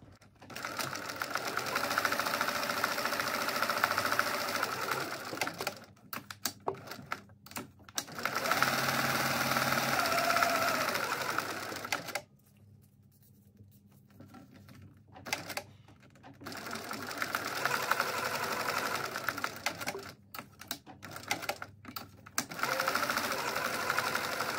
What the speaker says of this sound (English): Now what we're going to do is top stitch this with a 1/4 inch seam allowance in from each long edge.